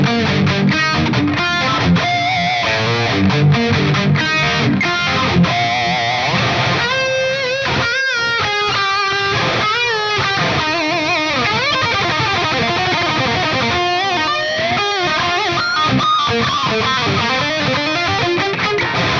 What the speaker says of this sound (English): I basically copied the A, and then I just added tape echo.